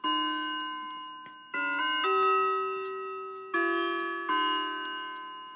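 A Howard Miller Lambourn wall clock chimes a melody of clear, ringing tones, each strike sustaining and slowly decaying before the next, loud and close with no talking.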